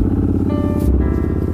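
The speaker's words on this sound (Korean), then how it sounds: "바이크에 시동을 겁니다." A Royal Enfield Interceptor 650 parallel-twin motorcycle with an aftermarket muffler rumbles close by, with a loud, steady, throbbing engine beat throughout.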